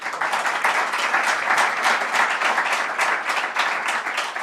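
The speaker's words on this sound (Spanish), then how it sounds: "Moltes gràcies a tots i un fort aplaudiment." Steady, dense applause from an audience at a business event on cybersecurity in Mallorca, many hands clapping continuously at an even level throughout.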